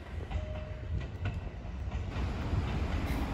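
A Kintetsu train at Suzuka-shi station gives a steady rumbling rail noise with faint clicking and a brief thin tone. It stays fairly quiet and continuous throughout.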